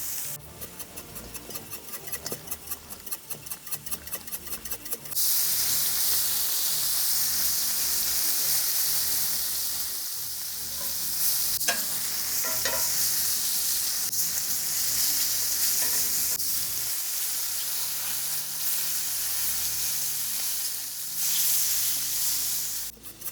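Peppers for chili verde roasting in a hot pan give off a loud, steady sizzle and frying hiss, preceded by a few seconds of rapid crackling, with occasional stirring scrapes and no talk.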